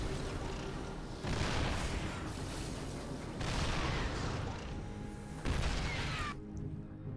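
Siege tanks fire in the StarCraft II video game: three heavy booming bursts of artillery-like blasts at roughly even intervals, each with a long rumbling tail, fairly quiet overall.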